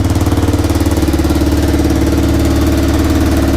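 An old Honda engine idles close by, a loud, rapid, even chugging pulse that holds steady throughout with no voices.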